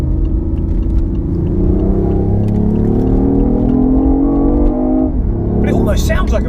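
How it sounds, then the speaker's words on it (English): BMW i8 hybrid sports car engine droning and rising in pitch under steady acceleration, heard from inside or close by, loud and continuous, then briefly dropping before revving again. "But it almost sounds like a V10, doesn't it?"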